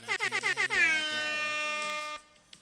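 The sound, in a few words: air horn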